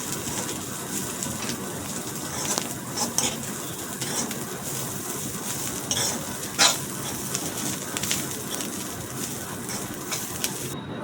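Bitter gourd stir-fried in a pan, a continuous moderate sizzle broken by scraping and mixing strokes and an occasional sharp clink of utensil on metal, no talking.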